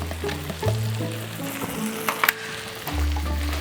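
Galangal, red chili, lemongrass and lemon leaf frying in oil in a wok for Thai tom yum soup, giving a steady close sizzle with a few sharp crackles and spits partway through.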